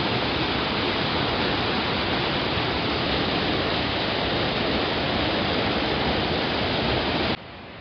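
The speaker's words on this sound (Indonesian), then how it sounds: "Sungai air besar di kawasan komplek Universitas Islam Negeri AM Sangaji, Kota Ambon adalah salah satu sungai yang airnya paling deras meluap." Flooded river in Ambon after heavy rain, overflowing its banks and rushing hard as a steady, dense roar of water that stays constant throughout, then drops suddenly to a quieter level near the end.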